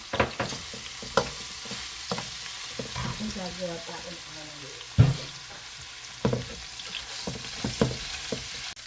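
Garlic fries in a pan for a Filipino ground meat omelette, with a steady close sizzle. A utensil stirs and scrapes against the pan in a few sharp, irregular strokes.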